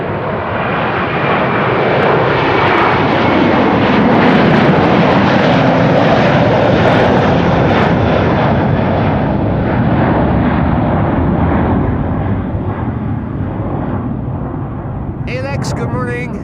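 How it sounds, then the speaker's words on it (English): A Delta Air Lines airliner moves at Amsterdam Schiphol, a loud, close, sustained jet engine roar that holds steady for the whole stretch, with someone talking over it. "Delta on the move."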